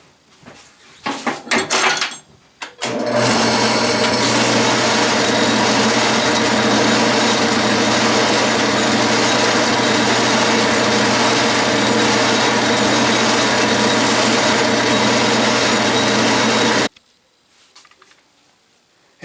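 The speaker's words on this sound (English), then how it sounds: "Now I'm going to use a starter bit and then a pilot bit, a 1 size under 1/2 inch drill bit," A pilot drill bit bores steadily through a small model steam engine cylinder, a loud continuous machine whine and cutting drone for about fourteen seconds, bracketed by brief handling clatter before and after.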